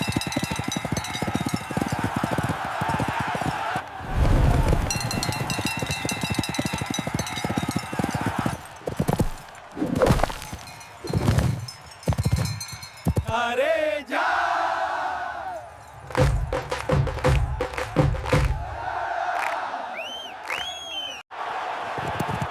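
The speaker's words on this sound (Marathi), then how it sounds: "माती उडते, घंटांचा आवाज जोरात घुमतो, लोकांचा जल्लोष" Bullock carts racing at speed with bells ringing, hooves pounding on dirt in busy rhythmic bursts while a loud crowd cheers and shouts throughout.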